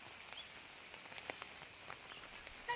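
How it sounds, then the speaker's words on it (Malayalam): Rain falls steadily outdoors among plants, a faint, even hiss scattered with soft drop taps, with no voices. "ഇപ്പൊ നല്ല മഴ വരുന്നു."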